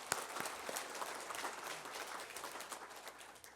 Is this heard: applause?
yes